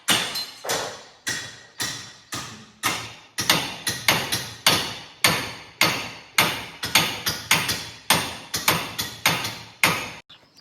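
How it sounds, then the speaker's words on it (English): A hammer strikes repeatedly to knock a bearing off a mower bed, loud sharp metallic thuds in irregular bursts of one to three blows with short pauses between, close and alone. "So what you could see Tony whacking away out there was he's trying to get the bearing off."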